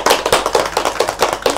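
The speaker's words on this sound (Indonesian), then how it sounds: "Beri tepuk tangan untuk kalian semua." A classroom full of students clapping their hands together in a quick, loud burst of applause lasting under two seconds.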